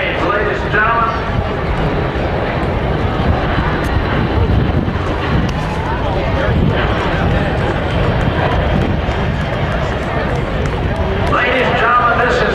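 A military airplane roars past at an air show in Charleston, a loud, sustained engine rumble with wind buffeting, while an announcer talks over it throughout.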